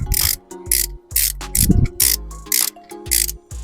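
A wrench tightens the timing belt tensioner pulley on a Suzuki Samurai SJ413 engine, giving repeated bursts of metallic ratcheting clicks in an uneven rhythm, close and clear.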